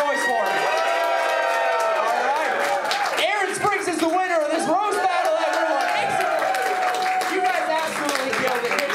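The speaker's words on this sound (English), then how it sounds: "You make a round of applause if you think they won." Loud, continuous cheering, whooping and applause from a crowd at a roast battle comedy show, with shouting voices layered over steady clapping for the full stretch.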